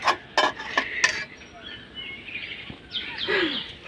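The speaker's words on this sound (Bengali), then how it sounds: "কেমন কড়াইতে খুন্তি নেড়ে নেড়ে আমার নাতি খেলা করছে" A small child bangs and scrapes a metal spatula around inside an iron kadai, making several sharp clanks up front followed by lighter scraping and rattling, with faint chirps in the background.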